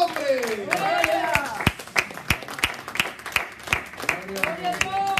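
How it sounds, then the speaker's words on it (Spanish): Church congregation clapping hands in a steady, rhythmic beat during lively worship, sharp regular claps continuing under singing and a preacher's voice. "No deje de aplaudir, dale palmas fuertes al Señor"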